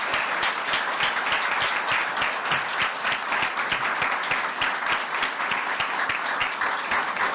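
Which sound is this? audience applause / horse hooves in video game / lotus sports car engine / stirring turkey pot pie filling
audience applause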